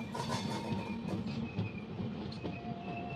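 The Andhra Pradesh Express rolls over a diamond crossing near Nagpur, heard from on board as a low, steady rumble with faint rhythmic wheel clatter and thin metallic whines.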